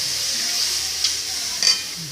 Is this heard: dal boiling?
yes